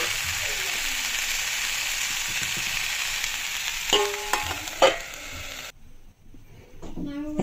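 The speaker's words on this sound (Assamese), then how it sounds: "আৰু এতিয়া মই কাটি থোৱা বিলাহীখিনি দি দিম আৰু লৰাই দিম অলপ সময়।" Chopped tomatoes added to a hot pan for a raw banana dish, a steady sizzle of frying with occasional scraping stir strokes and brief clinks, louder at first and then dropping off.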